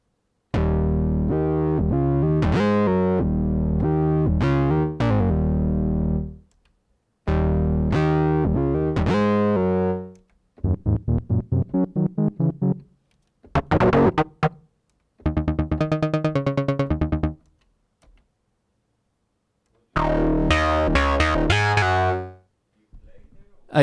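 Preset patches on a commercial-like modular synthesizer, played from a keyboard: several separate tonal phrases with rich harmonics, some sustained chords and some short staccato bursts, separated by brief pauses, loud and alone.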